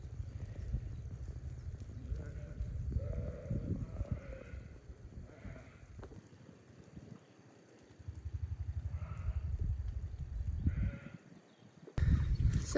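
Sheep bleat in a few scattered calls as they are moved through a field gate during lambing preparation, heard over a steady low engine rumble.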